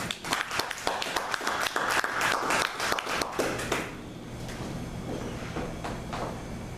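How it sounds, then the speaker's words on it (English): Audience at a business event clapping loudly for a few seconds, then dying down into murmuring room noise with scattered taps. "Can we have another round of applause for"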